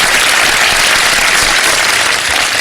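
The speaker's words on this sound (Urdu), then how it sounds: "بہت تالیاں ہونی چاہیے." Studio audience on a Ramadan iftar television show breaking into loud sustained applause, dense clapping that fills the whole moment without pause.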